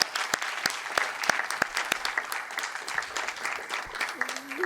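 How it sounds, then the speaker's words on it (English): Scattered applause for instructors at a STEP graduation ceremony, sharp separate handclaps that thin out toward the end, fairly quiet, with a little speech mixed in. "can we have a big round of applause for all the instructors?"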